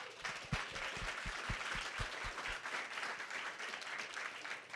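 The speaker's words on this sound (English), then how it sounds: "So one more round of applause to all four who just pitched." Applause from an audience after four startup pitches at an environmental sustainability event, a broad, even wash of clapping throughout with a few louder, closer individual claps standing out near the start.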